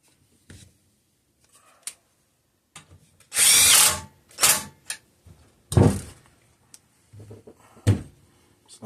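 Short bursts of a power driver tightening a bolt into the lower tank bracket on a 5 hp Briggs and Stratton engine, with a few clicks and clunks of handling between runs, close and fairly loud, with no talk.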